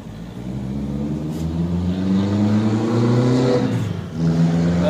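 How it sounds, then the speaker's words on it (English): A car engine drones steadily nearby, its pitch rising and shifting as it revs and moves past, with no talking. "There's that Volkswagen again."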